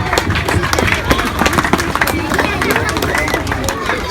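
A graduation-day audience claps in a dense, lively patter close by, with crowd chatter and voices mixed in throughout.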